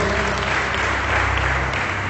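A church audience applauds in a continuous, loud wash of many hands clapping, with a low steady hum running underneath.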